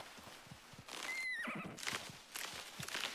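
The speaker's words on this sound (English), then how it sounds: "This horse makes so much noise." A horse in a video game whinnies once, loud and close, amid light hoof clopping and soft rustling.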